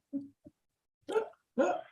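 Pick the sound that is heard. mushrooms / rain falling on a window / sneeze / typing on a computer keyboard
sneeze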